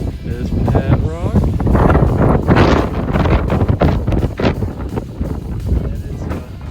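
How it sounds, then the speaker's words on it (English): Strong hurricane-force wind roars across a mountain hike in Baxter State Park, buffeting the microphone loudly and steadily while people talk over it. "Feel that wind."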